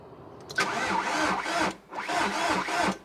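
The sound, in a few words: car engine cranking and starting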